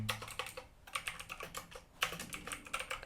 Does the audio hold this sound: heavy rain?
no